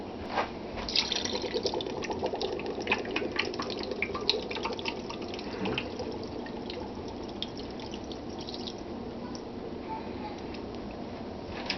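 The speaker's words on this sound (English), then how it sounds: "Put some water in there." Tap water pours into a pressure cooker holding corned beef and cabbage, a steady close splashing fill with drips, running continuously under faint background voices.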